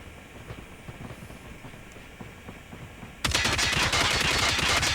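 LK24 assault rifle fired in Call of Duty ranked multiplayer, a sudden burst of rapid automatic shots starting late and continuing loud and sustained to the end after a quieter stretch of game ambience.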